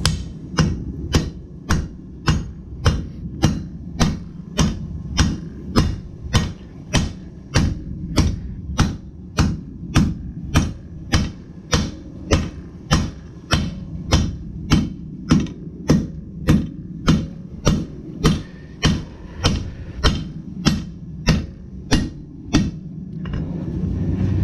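Steady hammer blows peen metal vertically, about thirty sharp, evenly spaced ringing strikes close up, with no speech.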